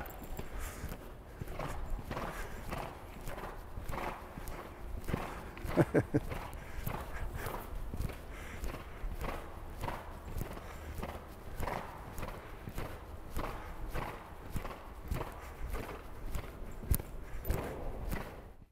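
Hooves beat in a steady rolling rhythm as a horse gallops nearby, three-beat thuds repeating evenly over a long stretch with faint background noise.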